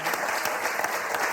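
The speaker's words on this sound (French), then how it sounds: "qu'on va applaudir très fort" A studio audience applauds game show contestants on the French word game Motus, a steady, dense clapping that carries through the whole short stretch with no talking over it.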